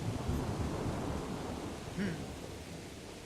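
A thunderstorm in the video game Kingdom Come Deliverance rumbles as a continuous low roar of thunder and rain, steady and fairly loud, with no talking.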